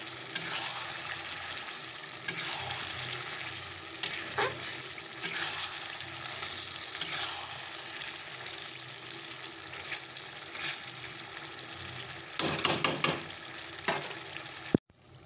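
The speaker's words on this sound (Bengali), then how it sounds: "মাংসটা কষানো হয়ে গেছে" Mutton sizzles and fries steadily in a pan during the kosha stage, with a continuous close sizzle broken by occasional scraping stir strokes and a brief louder burst of stirring near the end.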